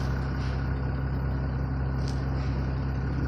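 Service vehicle engine idles while warming up outside, a steady low rumble held at constant level from start to finish with no talking.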